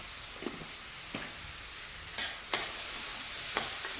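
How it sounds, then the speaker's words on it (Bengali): Dried fish cooking in a pan with chili and coriander-cumin powder, stirred now and then: faint, sparse scrapes and soft sizzle at low level, with no talking. "এখন এই শুটকি মাছের সঙ্গে মশলাগুলো একটু কষিয়ে নেব"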